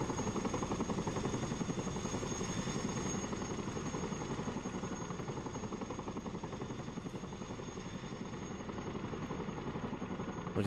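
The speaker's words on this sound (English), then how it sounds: "Yeah, the helicopters in this." Military helicopter rotors from a Vietnam War game operation with the 173rd Airborne, a loud continuous thudding drone that holds steady throughout with no talk over it.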